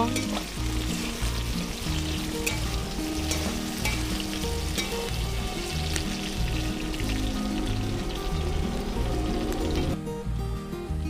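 Food for a young jackfruit and prawn dish sizzles loudly in hot oil in a pan, with steady crackling and occasional scraping stir strokes throughout.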